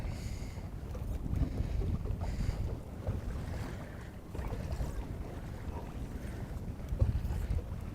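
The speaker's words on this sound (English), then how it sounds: "I got the trolling motor on like 5 right now." A boat's trolling motor runs at a low setting while fishing for walleye, a faint steady hum mixed with gusting wind buffeting the microphone and light water noise.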